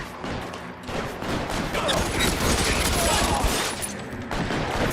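Sustained gunfire in the video game L.A. Noire, a dense, continuous barrage of rapid shots filling the whole stretch at close, loud level, with a voice faintly present underneath.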